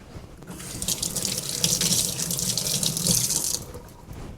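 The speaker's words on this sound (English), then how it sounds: "I'm gonna rinse my hands" Kitchen tap runs steadily as hands are rinsed during sourdough coffee cake baking, a continuous close splashing stream that stops abruptly near the end.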